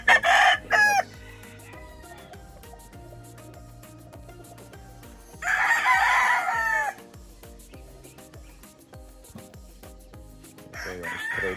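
Gray hat gamefowl roosters at a gamefarm crowing loudly in several bursts, near and separated by quieter stretches, with a steady mechanical hum and faint background music underneath.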